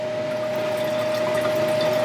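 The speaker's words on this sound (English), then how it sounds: "Pour off this hydrochloric rinse now into this waste container." A hydrochloric acid rinse carrying a little gold is poured from lab glassware into a waste container during gold refining. The liquid makes a steady, continuous rushing and trickling sound with a faint constant hum underneath, and no one speaks.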